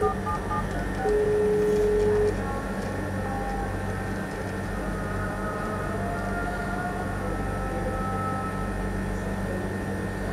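Brother Intellifax 2820 fax machine dialing out, a short steady tone and a series of brief dial beeps over a constant mechanical hum from the machine.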